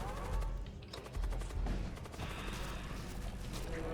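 Rapid bursts of weapon fire rattle in the Void War video game as a missile is launched, dense crackling volleys and thuds repeating close and loud with no pause.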